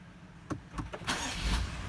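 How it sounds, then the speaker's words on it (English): A car engine restarts after a check engine light reading, with a click and brief cranking before the motor catches and settles into a steady idle nearby. "And then I'm going to restart the car."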